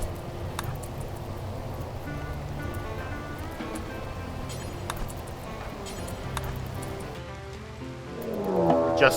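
Steady rain falls in RimWorld over the Glowforest, a continuous even patter with scattered soft droplet ticks, swelling slightly near the end.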